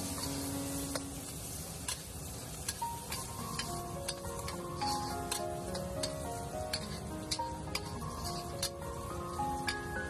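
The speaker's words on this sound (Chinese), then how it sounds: "接着再把切好的红萝卜丝倒进来，继续给它煸炒，把红萝卜炒软、炒熟" Shredded carrots sizzle in rendered fat in a pan, a steady close frying crackle punctuated by repeated sharp spatula clicks as they are stirred, with faint tonal background music underneath.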